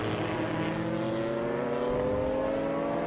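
Race cars from a vintage and sports racing group crossing the finish line at a circuit in Austin, a steady continuous engine roar with harmonic whine, moderately loud and unbroken, no talk.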